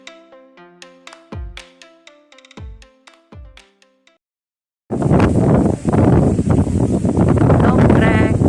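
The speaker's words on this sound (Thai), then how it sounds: "ลมแรงค่ะ" Strong wind buffets the microphone at a hilltop sea viewpoint at Khao Sam Muk in Bang Saen, Thailand, a loud, continuous roar that bursts in suddenly after a quiet stretch of chiming musical tones.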